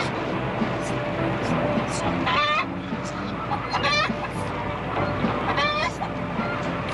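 Chickens cluck repeatedly in short bursts at moderate distance, mixed into a busy background with talk over them in a western film scene.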